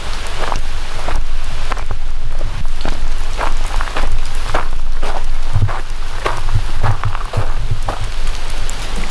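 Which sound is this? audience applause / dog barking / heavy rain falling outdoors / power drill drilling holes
heavy rain falling outdoors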